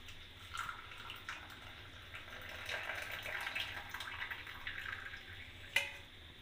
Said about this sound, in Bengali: চাটা ছেঁকে নিলাম।